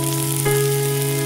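Cabbage and mixed vegetables for Hakka noodles sizzle loudly as they are stir-fried, with a steady hiss over a constant hum and one brief stirring rustle midway.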